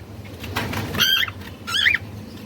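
A pet bird at home gives two short, bright chirping calls about a second apart, close and fairly clear over a low background hum.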